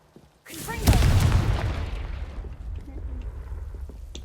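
A Confringo spell blast in Hogwarts Legacy bursts in with a heavy booming explosion after a short silence, then rumbles and decays into a long, noisy tail, loud and close.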